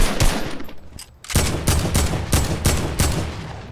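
Rapid bursts of gunfire from the video game Fortnite, a brief pause followed by a steady string of loud, evenly spaced shots filling the clip.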